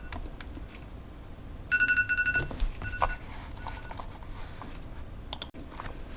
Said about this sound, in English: Remind me to turn my phone alarm off when I make these kinds of videos.